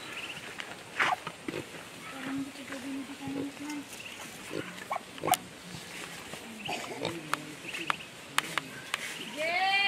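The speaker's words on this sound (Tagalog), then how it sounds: "Baboy ramo." Wild boar grunting on a rural Philippine farm, a series of low guttural grunts repeated through the clip over steady outdoor noise, with a few sharp knocks and other faint animal calls.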